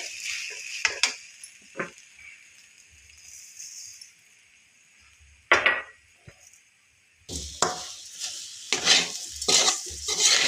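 Spoon stirring sugar into semolina shira in a metal pan, a series of scraping and clinking strokes in irregular bursts with quiet gaps between, close and fairly loud, with no talk.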